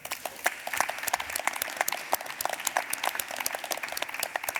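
Audience applause welcoming Paul Preciado at a LUMA Arles event, a crowd of hands clapping with distinct sharp claps standing out from a fuller background, moderately loud and sustained without voices.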